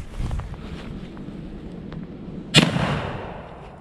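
An 1896 National Firearms 12 gauge shotgun fires a single loud, sharp blast outdoors, preceded by steady wind buffeting the microphone. No speech.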